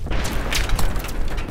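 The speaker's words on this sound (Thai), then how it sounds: "โอ้ระเบิดแล้วอ่ะ" An explosion in Battlefield 3 gives a dense, loud rumbling boom with crackling bursts layered on top, continuing throughout the short stretch without clear pauses.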